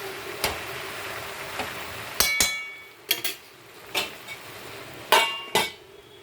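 A spoon scraping and clinking against a metal pot while stirring a Bengali chorchori of pui leaves and vegetables, with about a dozen irregular, sharp metallic taps over a quiet background.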